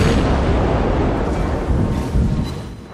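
Naval gunfire in the World of Warships naval combat game, a dense, loud rumbling roar of booming blasts with no clear gaps, heavy and continuous across a few seconds.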